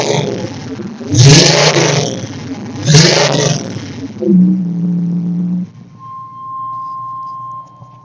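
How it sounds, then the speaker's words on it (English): An old car engine revs twice in sharp bursts, its exhaust roaring, then settles into a rough idle before cutting out, leaving a steady electrical buzz. "see if you guys can kind of hear the exhaust"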